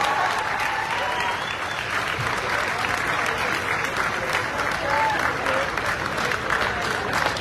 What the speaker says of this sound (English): So give it Anne a big round of applause.